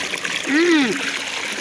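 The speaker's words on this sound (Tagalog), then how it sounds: "Napakalinis ang tubig" Clean water from a free-flowing source, with no pump, pours and splashes in a steady close rush, with a short voiced exclamation over it.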